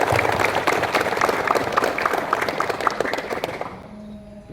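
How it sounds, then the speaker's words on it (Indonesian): An indoor sports-hall crowd applauds the minister with a broad wash of clapping that holds steady and then tapers off near the end, leaving a quieter room. "Coba tepuk tangan aplaus buat Pak Menteri."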